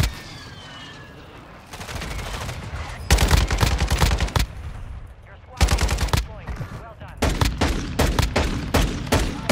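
Heavy automatic gunfire in Call of Duty Warzone 2 on the Vondel map, loud close bursts of rapid shots broken by short pauses, repeating across the whole stretch with a voice faintly present underneath.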